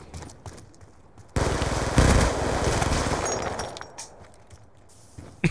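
Scorpion gun firing in Black Ops 2, a loud sustained burst of rapid automatic gunfire lasting a few seconds, with brief quieter gaps before and after.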